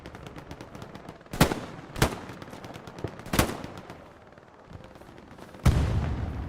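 Gunfire in the console video game Hell Let Loose during a night battle on the Foy map, several loud sharp shots and booms spaced a second or so apart over steady background rumble.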